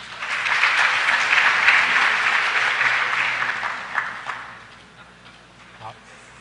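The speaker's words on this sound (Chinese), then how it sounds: "好，请大家鼓掌。" An audience at a PHP developer conference applauds in a full round that swells, holds, then thins to a few scattered claps and fades out.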